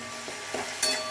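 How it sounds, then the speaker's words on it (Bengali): Onions frying over high heat toward golden brown for a Bengali prawn dish, a continuous close sizzle with a few soft stirring scrapes and a brief clink near the end. "এবার পেঁয়াজটাকে ভালো করে কষিয়ে নেব যতক্ষণ না এটা থেকে একটু তেল ছাড়ছে, তত লাইট ব্রাউন হচ্ছে।"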